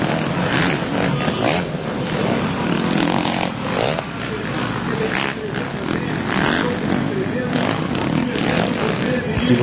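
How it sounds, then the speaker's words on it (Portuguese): Arena cross motorcycle engine revving and accelerating in an indoor race, a continuous rasping roar that surges and eases, mixed with crowd noise and a commentator talking over it. "você ouvindo o barulho do motor da moto do líder da prova, do Paulo Alberto"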